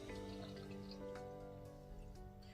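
Green natural Gatorade made with spirulina poured into a container, a soft, close trickle of liquid running steadily for a couple of seconds beneath a faint tonal hum.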